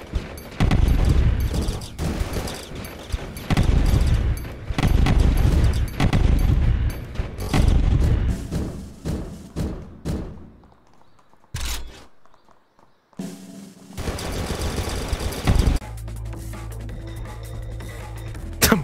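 Rapid bursts of video-game gunfire from a bunny's gun in Deer Simulator, loud and dense, with booms mixed in, then a brief near-silent gap before a humming section.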